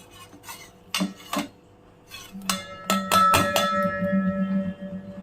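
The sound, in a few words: jaggery and tamarind transferred into a cooking pot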